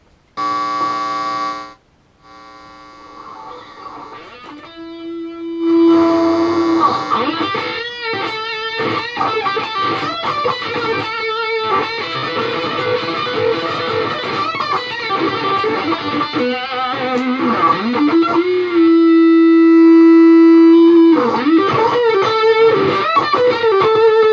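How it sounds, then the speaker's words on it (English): Heavily distorted guitar blares through a maxed-out pedal, fuzzy sustained notes and buzzing chords, loud and saturated, with a short pause early on. "It just sounds like a maxed out pedal, which is great."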